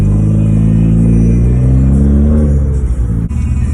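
A Honda CR-Z with a KTUNER tune and a CVT transmission accelerates hard, its engine a loud, close, steadily climbing rumble that ends with a brief clatter.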